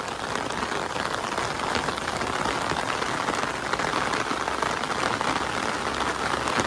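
Steady, dense rain drums on a hard surface, a constant close hiss of drops with no break throughout.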